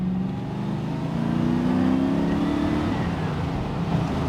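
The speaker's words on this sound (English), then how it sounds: "let's just have one last blast of this Rover V8" A Rover V8 in a 1990s TVR Chimaera British sports car revs hard and close, a deep rumbling roar that climbs and holds steady for several seconds with no talking.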